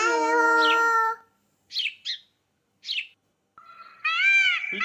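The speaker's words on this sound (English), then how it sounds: "Sparrow." Sparrow calls: a few short, sharp chirps with gaps between them, mixed with a longer harmonic, whining call at the start and end, close and clear against silence.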